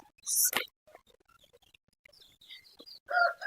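Backyard chickens gathering for feed, with a sharp loud squawk early on followed by scattered soft clucks and chirps, then a louder burst of clucking at the end.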